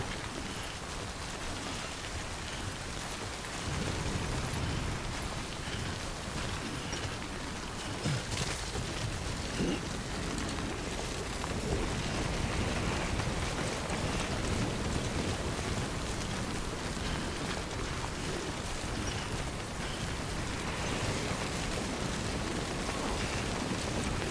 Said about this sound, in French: il y a du vent et il y a de la pluie